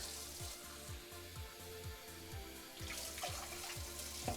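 Water streams steadily into a pot for cooking rice, a continuous splashing wash with some clinking underneath, close by and moderately loud.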